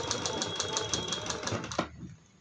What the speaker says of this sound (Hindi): पूरे गोलाई में ऊपर का फोल्ड करके सिलाई लगाएंगे।